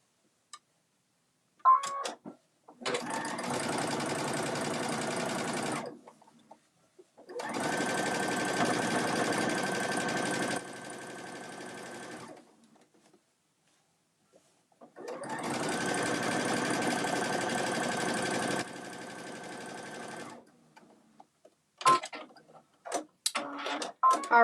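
A sewing machine quilts a bag handle in three long steady runs of several seconds each, separated by pauses, with faint handling clicks at the start and end.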